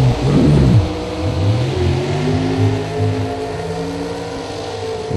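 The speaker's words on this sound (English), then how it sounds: "Two dragsters burning out across the starting line" Two drag racing dragsters doing burnouts across the starting line, a loud roaring engine that rises and falls in revving sweeps, with nobody talking.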